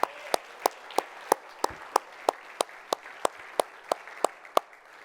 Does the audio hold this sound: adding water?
no